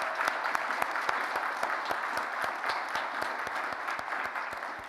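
Applause from a lecture audience honouring a history department: a sustained, even wash of many people clapping, with distinct crisp hand claps popping out at a brisk irregular rhythm, holding steady throughout.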